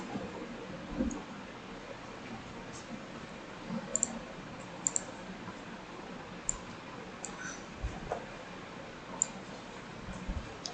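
A computer mouse clicks in sharp, isolated taps, around a dozen spread unevenly over a quiet, faintly hissing background.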